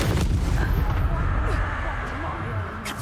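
Incendio fire spell cast in Hogwarts Legacy, a loud, dense burst of roaring, crackling blasts filling the whole moment, with bright flaring noise and no pause between the booms.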